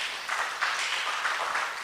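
Audience applause at a research festival side event in Kenya, a steady wash of many hands clapping that swells a few times across a short stretch, with no voices over it.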